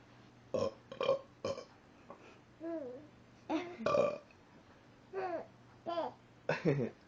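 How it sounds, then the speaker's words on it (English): A man lets out a series of loud, close burps in short bursts, each answered by a baby's babbling and giggles between them. "Is Daddy burping funny?"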